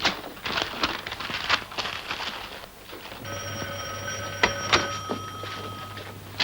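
An electric bell in an old 1941 film rings in a steady tone with clear overtones, starting about halfway through and continuing over fainter background clatter and some short sharp hits.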